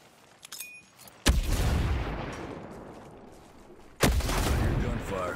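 Two heavy gunshots boom in the Ghost Recon Breakpoint video game, each a sharp crack trailing into a long, rumbling echo, with a brief faint voice just before the first.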